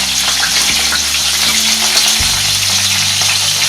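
An egg and onions frying in hot oil on a stovetop for huevos rancheros, a steady close sizzle with a low hum underneath and no talk.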